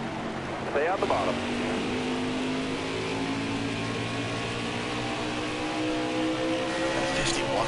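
Race car engines drone steadily in a NASCAR racing video game at New Hampshire, a loud sustained hum with shifting pitch, layered with game sounds and a brief rise of revving early on.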